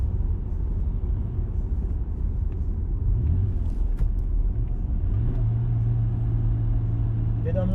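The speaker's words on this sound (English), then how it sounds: "And I guess we will let this engine stretch its legs." A BMW E90 328i with the N52 straight-six and upgraded exhaust gives a deep, steady rumble under driving, rising into a droning rev near the end, with someone talking over it.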